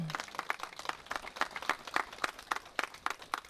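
Steady applause from a small crowd at a wedding ceremony, quick overlapping claps continuing throughout at moderate, somewhat distant volume.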